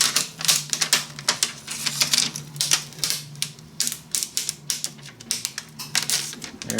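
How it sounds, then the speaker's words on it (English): Protective film being peeled off the windshield of a 1/6 scale Hot Toys DeLorean Mark 2 Time Machine model, giving a run of quick crackling, ticking snaps over a faint steady low hum, close and fairly loud, with no talking. "the corner and just peel it off"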